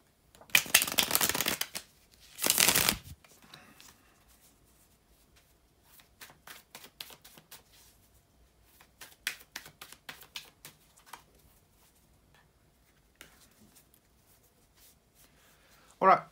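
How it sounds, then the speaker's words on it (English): Tarot cards being shuffled up close, with two loud bursts of riffling near the start followed by softer, intermittent card flicks and taps. "bear with me just a second, guys, to shuffle the tarot cards"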